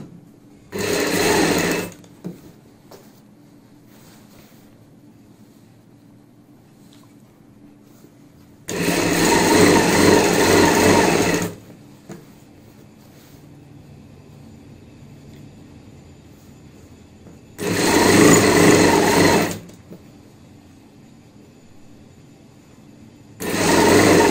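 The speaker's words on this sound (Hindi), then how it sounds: "इस कपड़े को अंदर की साइड इस तरीके से डालते हुए यहाँ पे ऊपर से सिलाई लगाएंगे" A sewing machine stitches the belt of a box pleat palazzo pant in three loud, steady bursts with quiet pauses between them, and a fourth burst starts at the very end.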